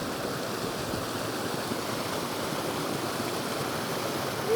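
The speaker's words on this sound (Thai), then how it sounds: "โอ้น้ำตกเนาะ" Steady rushing water of a waterfall in Laos pours continuously, a dense even roar heard from nearby, with no voices.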